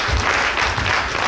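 Audience clapping at a Bomi County association ball, a dense, loud, continuous burst of applause from a crowd in a hall, holding steady throughout.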